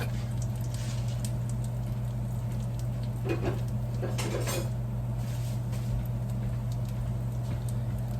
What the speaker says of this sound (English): let me get this stuff put in the sink